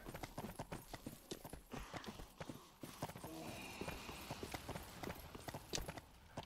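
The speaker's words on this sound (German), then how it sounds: "Es hört sich an, als wäre ein Pferd hinter mir her." Horse hooves clip-clop in a quick, steady rhythm in the video game Dark Souls 3, moderately close, continuing for several seconds with no talking.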